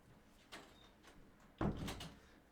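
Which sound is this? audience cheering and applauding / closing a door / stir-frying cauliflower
closing a door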